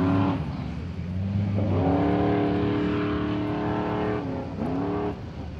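Off-road bomber-style rig engine revving hard as it leaves the start line at a qualifying event, a loud sustained roar rising and falling in pitch with gear changes and a brief drop near the end.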